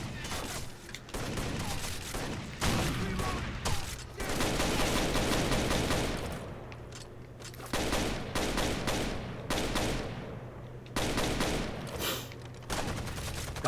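Repeated bursts of automatic gunfire ring out in the video game Rainbow Six Vegas 2 as enemies climb a ladder, loud rapid volleys broken by brief pauses.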